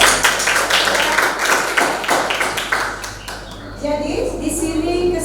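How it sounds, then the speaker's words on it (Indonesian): Applause closing a lesson on computer network topology, a few seconds of dense clapping with someone speaking over it, then the clapping fades into quieter room sound. "Kita beri aplaus"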